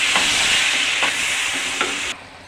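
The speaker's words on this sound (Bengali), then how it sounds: "ঝোল ফুটতে শুরু করে দিয়েছে" Broth of radish, potato and tangra fish curry coming to a boil in a pot, a steady bubbling hiss with a few soft pops, close and fairly loud, cutting off abruptly near the end.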